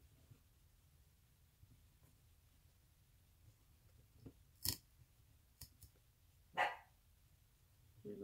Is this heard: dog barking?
yes